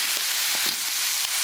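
Beef ribs fry in hot oil with ginger, garlic, dried chilies and Sichuan peppercorns, a steady close hissing sizzle with small crackles and occasional stirring scrapes.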